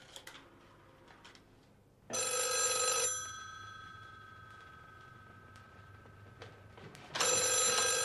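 Ringing telephone in a Greek home setting from a 1987 film, a loud bright bell burst lasting about a second, followed by a quiet pause and then a second ring starting, no talk over it.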